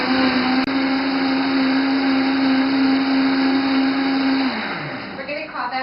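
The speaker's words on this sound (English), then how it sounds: "I am going to blend my celery soup" A blender whirs steadily at high speed while blending celery soup, a loud, constant motor drone that winds down near the end.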